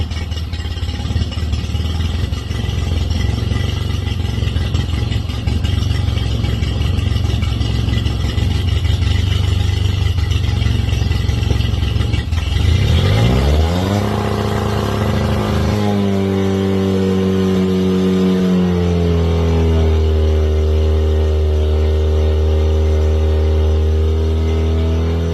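A Mercury 9.9 four-stroke outboard motor cranks over and fires up, then revs and settles into a steady, loud running idle with shifting pitch as the throttle and choke change, close by and without talk.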